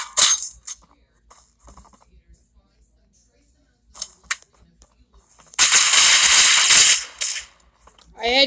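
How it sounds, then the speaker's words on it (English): Gunfire in the shooter video game Central Ops: scattered sharp shots and clicks, then a loud, dense burst of rapid fire lasting over a second, with a few more shots after. "Oh, I gotta be fast at shooting."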